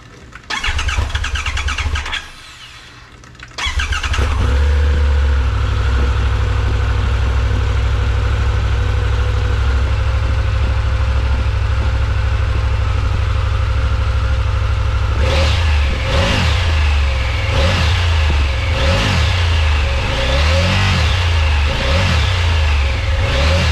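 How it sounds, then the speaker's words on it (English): A Triumph Tiger 1200 triple engine with an Arrow exhaust starts, settles into a steady, loud idle close by, then gives a string of sharp throttle blips and revs in the later part, with no talking. "I can't wait to hear it on the Triumph to see what that triple does to the sound of the Arrow exhaust"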